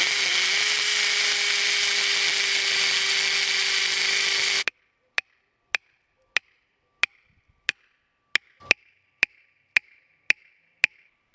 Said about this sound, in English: I got this drill and everything, so I'll just drill some more holes and try to weaken it